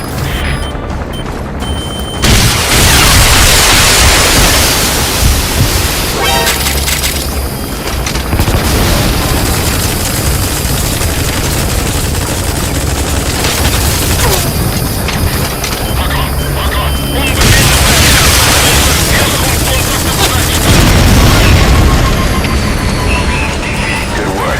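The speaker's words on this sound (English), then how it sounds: "Try to get behind it and take it down with missiles." Missiles are fired at a gunship in Metal Gear Solid V: The Phantom Pain. Loud booming explosions and crashes roll on continuously, with heavy bursts and mechanical clatter that rise and fall throughout.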